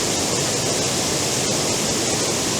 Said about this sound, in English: I've got the waterfall in the top left, coming down to the cascade